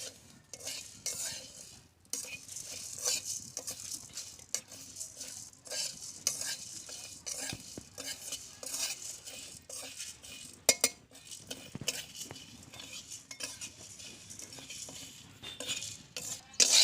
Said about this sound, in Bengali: এই যে শুকনো লঙ্কা, গোলমরিচ, মেথি আর এখানে ধনে নিয়েছি। এগুলো এবার ভালো করে শুকনো কড়াইতে